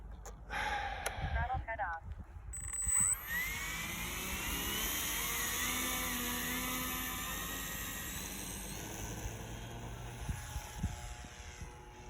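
Light aircraft engine running at or near full throttle in flight, a steady loud drone that holds throughout, with a voice talking over it.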